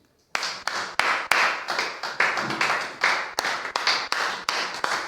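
A church congregation at a French-language service claps and acclaims Jesus, the sound starting suddenly as loud, dense applause with strong rhythmic accents, continuing steadily with no clear speech above it.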